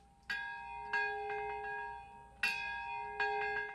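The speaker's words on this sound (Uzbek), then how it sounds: "Qo'ng'iroqlar chalindi." Bells ringing at a memorial ceremony marking the atomic bombing of Japan, four or five clear, resonant strikes spaced a second or so apart, each decaying into a long ring with no voices.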